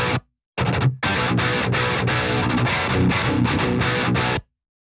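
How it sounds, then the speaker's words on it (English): Heavily distorted electric guitar played through a Bogren Digital MLC SubZero amp simulation, a tight, thick, aggressive tone in dense chugging bursts after a brief opening stab, loud and up front with no talk. "that is just a super tight guitar sound"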